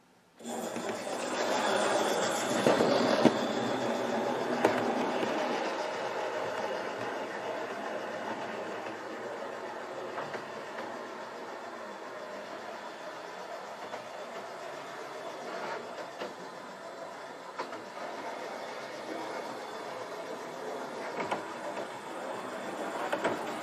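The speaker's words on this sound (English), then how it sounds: "It's a Ruston Hornsby D48 shunter." Ruston Hornsby D48 shunter locomotive on a model railway, a steady mechanical whirr and rattle running throughout, fairly close and even in level with faint clicking along the track.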